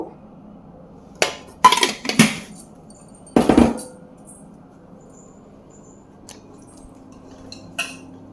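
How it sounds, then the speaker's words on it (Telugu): Chicken pieces are stirred with salt and turmeric in a pot, giving a few scattered metallic clinks and scrapes of a spoon against the vessel, separated by quiet gaps. "ఇప్పుడు ఈ చికెన్ని ఇలా బాగా కలుపుకోవాలి"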